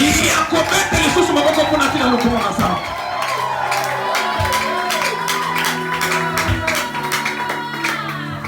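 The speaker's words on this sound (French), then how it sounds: "Je vous invite encore une fois d'applaudir pour la gloire." A loud crowd at a church service cheers, whoops and claps continuously, with shouts rising over a steady roar of voices.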